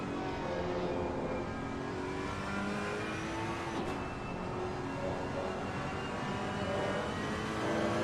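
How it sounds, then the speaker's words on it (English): A Ferrari race car engine in a sim racing game at a 24-hour Spa event, a steady loud droning roar with a constant rasping tone throughout, no talk. "Or is that just what the Ferrari sounds like?"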